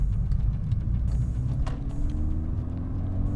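A Volkswagen 2.0T TSI engine on stock boost accelerates from inside the car, a loud low rumble with a rising engine tone and a faint brief hiss partway through.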